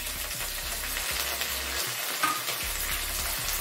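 Sliced onion and curry leaves sauté in a pan for a spicy chicken gravy, a soft, even sizzle punctuated by rhythmic stirring scrapes close by.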